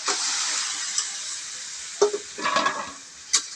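Vegetables sizzle steadily in a hot pan, with occasional clacks and scrapes of stirring against the pan over a continuous frying hiss.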